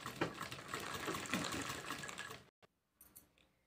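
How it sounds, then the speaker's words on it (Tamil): A sewing machine stitches a cloth bangle cover in a steady, rapid whirring run for a couple of seconds, close and moderately quiet, then stops, leaving faint handling noises. "இப்போ வந்து நான் மேல் பக்கமாக தைக்கிறேன்"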